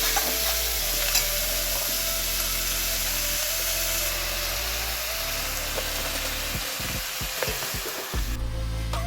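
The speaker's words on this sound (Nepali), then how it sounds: "अब साग हालेर यस सागलाई फ्राई गरौँ।" Bethu greens frying and stirred in a pan, a steady close sizzle with scraping stir strokes toward the end, no talk.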